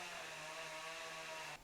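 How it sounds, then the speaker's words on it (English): A chainsaw running nearby outdoors on an autumn day, a steady buzzing whine held for over a second before cutting off abruptly, with no talk. "Oh my god, this chainsaw."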